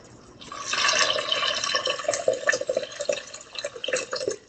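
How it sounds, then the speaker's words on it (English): Water runs and splashes steadily into a pot for a few seconds, a close, continuous pouring sound with small bubbling fluctuations. "now I'm going to add some water"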